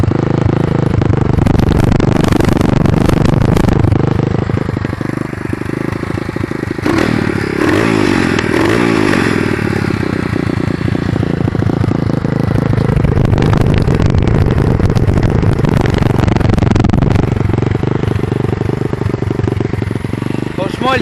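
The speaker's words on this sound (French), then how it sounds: "Regardez-moi ça, le bruit qu'elle fait." A YCF R-Start 125 dirt bike with a well-tuned carburetor idles and revs up close, giving a loud, steady engine rumble with mechanical clatter and someone talking over it.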